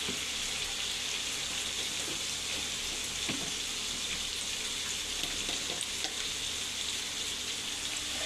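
Egg and rice sizzle and fry in a pan with turmeric about to be added, a steady close crackle with occasional stirring scrapes and no talking.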